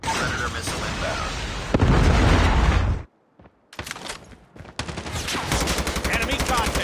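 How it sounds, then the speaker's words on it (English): Gunfire and a predator missile explosion in Call of Duty Mobile, with dense loud shooting, a heavy blast, a brief silent gap, then more rapid fire bursts, with game voices mixed in. "Predator missile inbound."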